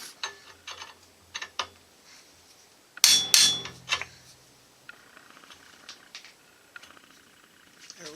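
The original starter bushing of a Studebaker is tapped into place with a few sharp metallic knocks, a couple of louder strikes near the middle among quieter clicks and handling noise.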